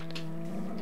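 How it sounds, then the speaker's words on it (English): A single low, sustained cow moo from Minecraft, loud and close, lasting under a second. "a cow mooing really loud in the sound"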